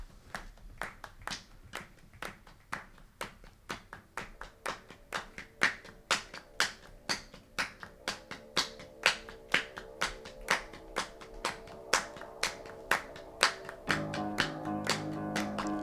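Human hand claps serve as percussion in a song, landing as a steady, evenly spaced beat that runs the whole way through, with a low instrumental layer swelling beneath the claps near the end.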